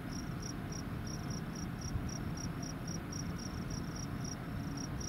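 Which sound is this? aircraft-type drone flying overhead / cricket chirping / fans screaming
cricket chirping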